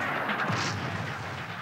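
A black powder cannon fires once at a battle reenactment, a sharp blast followed by a fading rumble.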